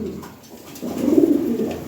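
Lahori Sirazi show pigeons in a cage give a soft, close cooing that swells after a brief quiet start and rolls on steadily.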